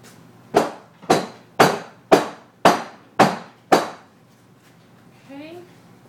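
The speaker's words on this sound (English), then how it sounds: "I'm going to go and tap it down." Seven evenly spaced, sharp taps ring out close by as a peacock feather hanger swirl is tapped down, followed by a short, faint squeaky sound.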